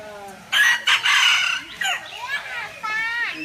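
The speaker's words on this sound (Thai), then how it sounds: "โอ้ยมันไก่นี่" A rooster crows in short bursts at close range at an open zoo, with high-pitched voices and lively background chatter mixed in.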